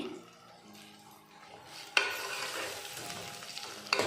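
Sprouted horse gram tipped into a pan of frying onions, then stirred: a steady sizzle with a sudden clatter as the gram goes in, and spoon scrapes against the pan, close and without talk.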